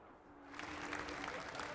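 Crowd applause at a sim racing expo's digital all-star race fades in and swells into a steady wash of clapping, fairly faint and distant, with a faint hum beneath.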